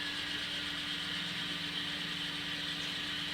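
N scale model train engines hauling a long BNSF grain train through a lower-level staging yard, giving a steady, even mechanical hum and whir with a faint constant tone throughout.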